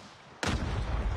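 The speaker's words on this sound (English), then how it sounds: "Imagine teammate using a freaking rocket launcher." A rocket launcher fires in the Call of Duty Mobile video game, a single loud, broadband boom that bursts in abruptly and then rumbles on at full level, alone without talk.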